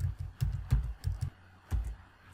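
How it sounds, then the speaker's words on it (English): Quiet typing on a computer keyboard, a short burst of about seven key presses in an uneven rhythm, close up and alone. "type in variables."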